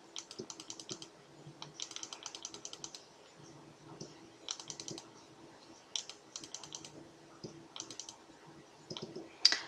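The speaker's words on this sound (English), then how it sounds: "So I'm going to just start clicking on this down arrow here" Computer keyboard arrow key clicked repeatedly while nudging letters of text together, rapid bursts of close, crisp taps separated by short pauses, no talking.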